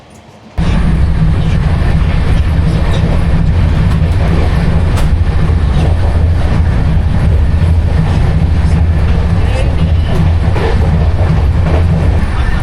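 The Sealdah–Benaras Amrit Bharat train running, a loud continuous rumble and roar heard from on board, steady and without a break.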